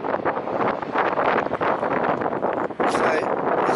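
Strong wind gusts around the corner of St. Paul's Church on the Isle of Wight, buffeting the microphone with loud, rough, continuous roaring that surges and dips.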